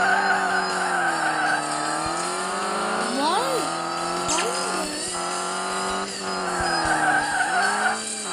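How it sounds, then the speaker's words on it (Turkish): Tires of a rally car skid and slide in the racing game Rally Fury, a loud sustained engine whine rising and falling with squealing slides, and speech from a player runs underneath. "Araba niye çok kayıyor ya? Kontrolünü kaybediyor."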